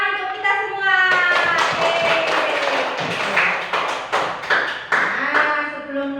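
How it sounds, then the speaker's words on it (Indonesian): A second-grade class claps hands in a classroom, a burst of sharp, close claps starting about a second in and continuing unevenly, mixed with children's voices and a teacher talking. "Tepuk tangan untuk kita semua."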